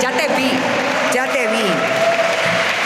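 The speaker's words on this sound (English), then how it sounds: "Let's give him a round of applause." Applause from the crowd at a Hispanic Heritage Month opening ceremony as an award recipient is welcomed, brief and fairly loud, with voices talking over it.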